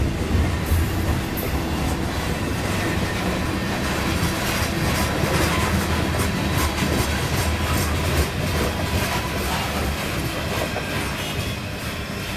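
A Conrail coal freight train moving north through Sunbury, Pennsylvania rumbles past close by, with continuous rolling wheel noise and rhythmic clicking over the rails for the whole stretch.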